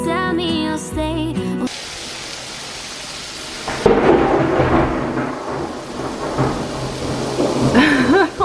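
A thunderstorm breaks in after a short stretch of music: steady rain hisses on surfaces, and a loud, close rumble of thunder rolls in partway through and swells again near the end.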